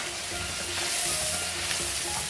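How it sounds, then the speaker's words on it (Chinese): Pickled cabbage stir-fried in a hot wok with pickled chilies and garlic, a steady close crackling sizzle with scraping stirs throughout, no talking. "炒出酸菜的香味"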